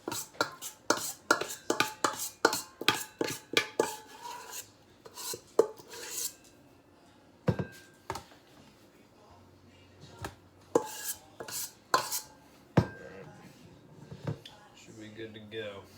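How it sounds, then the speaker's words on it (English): A spoon or scraper scrapes the bottom of a bowl of protein oats in a quick run of close, sharp strokes, then a few scattered scrapes and knocks with quiet gaps between them. "We're gonna scrape the bowl."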